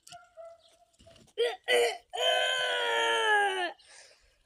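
A rooster crows once, a long strained call after a few short squawks, loud and close in an otherwise quiet setting.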